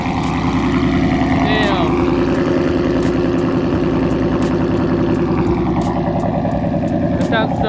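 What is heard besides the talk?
supercharged Toyota GT86 with UEL Subaru rumble exhaust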